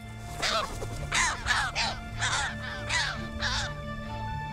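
Audouin's gulls on a Mediterranean coastal nesting site give a rapid series of about seven harsh, crow-like calls in quick succession, clear and fairly close over a steady low tonal background.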